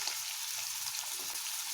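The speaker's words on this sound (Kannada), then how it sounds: "ಇವೆಲ್ಲ ಚೆನ್ನಾಗಿ ಕೆಂಪು ಫ್ರೈ ಮಾಡ್ಕೊಳ್ಳೋಣ." Ginger garlic paste, chilies, cinnamon, cloves and coriander leaves frying in a pan for egg masala sambar, giving a steady, even sizzle that runs unbroken throughout with no voices.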